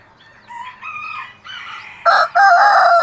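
A rooster crows among backyard chickens including Wyandotte bantams and Leghorns: close, loud cock-a-doodle-doo calls rising in strength, with softer clucking before, and no talking.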